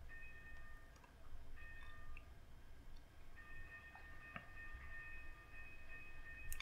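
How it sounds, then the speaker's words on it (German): A train pulls into a station in the Simutrans railway simulation game: a faint, low rumble with soft rhythmic ticks and thin tonal chimes, heard quietly with no talk. "Da kommt der Zug."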